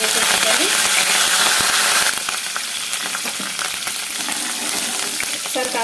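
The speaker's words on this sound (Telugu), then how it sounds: "మనం వేసిన వెల్లుల్లిపాయలు గోల్డెన్ కలర్ వచ్చేంత వరకు ఫ్రై చేసుకోవాలి" Garlic frying in hot oil for a bitter gourd dal tempering, with curry leaves added, sends out a loud, continuous close-up sizzle and crackle that shifts and intensifies about two seconds in, with occasional stirring clicks.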